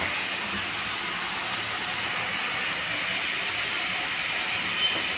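Paneer shallow frying in a pan gives a steady, loud, broadband sizzle that hisses evenly throughout without pause.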